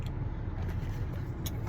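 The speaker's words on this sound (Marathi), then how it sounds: "सध्या जस्ट गाडी वॉर्मअप करतो" A car that has stood unused for 15-20 days idles while warming up, a steady low engine rumble held close and even throughout with no talk over it.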